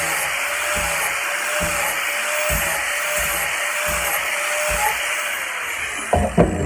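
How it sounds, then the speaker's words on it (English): An angle grinder fitted with a soft flap disc works a knife blade held in a vise, giving a steady, loud whirring drone with rhythmic scraping pulses as the disc passes over the steel, ending in a few clunks. "I'm going to start touching it up with the grinder"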